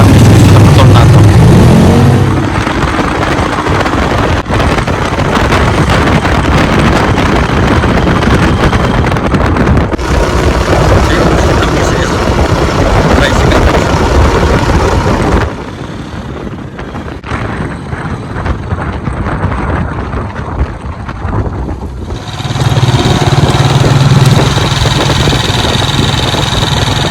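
A motorized tricycle carries passengers on the way to a beach resort, its small motor droning steadily and loudly for the whole ride, with heavy wind rush over the microphone and a brief dip in level midway.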